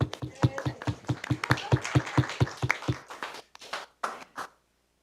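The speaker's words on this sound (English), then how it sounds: "Never got an applause like that." Applause at a city council meeting, a burst of rhythmic clapping from a small group that thins out into a few scattered claps before stopping.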